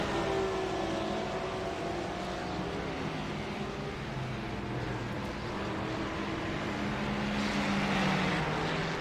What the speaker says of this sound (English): you can hear that Mercedes roar